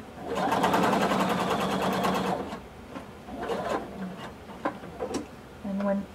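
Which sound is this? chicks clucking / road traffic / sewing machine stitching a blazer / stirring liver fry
sewing machine stitching a blazer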